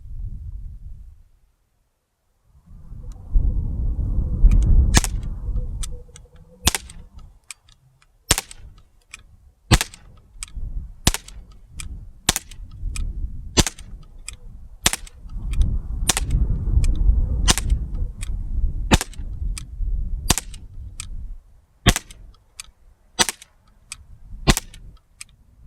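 An Umarex Colt CO2 pistol fires about seventeen sharp, loud cracks at a target, spaced a second or so apart at a steady pace, with faint rustling and handling noise between shots.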